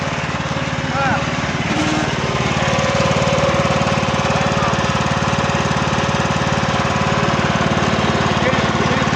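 A ride-on lawn mower engine runs loudly and steadily up close with a rapid knocking pulse, while voices talk faintly over it.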